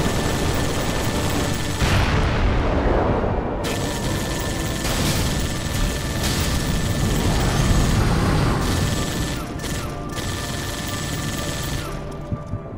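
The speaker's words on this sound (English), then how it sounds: "Get on that machine gun, Spartan." Sustained machine gun fire with explosions in the game Halo: Spartan Strike, dense continuous rattling bursts and crashes, loud and close throughout.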